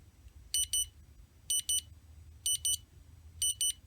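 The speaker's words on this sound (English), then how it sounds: "So that is the alarm that sounds when the battery is fully charged." An HTRC C240 dual-bay AC/DC battery charger sounds its full-charge alarm: four evenly spaced pairs of bright, high electronic beeps about once a second over a low background hum, close and clear, with no talking.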